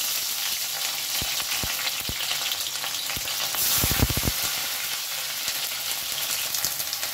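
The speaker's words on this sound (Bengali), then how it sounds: "তেল গরম হয়ে গেছে, এই তেলের মধ্যে আমি এবার দিয়ে দেব এঁচোড়।" Jackfruit pieces fry in hot oil with a steady, dense sizzle, broken by stirring and scraping clicks from a spatula, loud and close with no speech.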